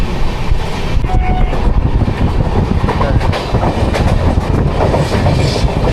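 A long-distance passenger train on the Thrissur to Delhi route rolls along the rails with a loud, continuous rumble and rattle of the carriages, heard from close inside the coach.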